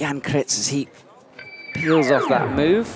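Electronic buzzer tone marking athlete rotation in a bouldering arena at a European climbing championship in Moscow, a steady held beep in the middle of the clip that sits between stretches of commentary.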